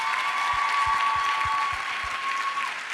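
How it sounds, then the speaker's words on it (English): Audience applause at a girls' conference, a dense wash of many hands clapping continuously, steady and fairly distant, with a faint tone and a few low thumps beneath. "Can we just give her one more round of applause?"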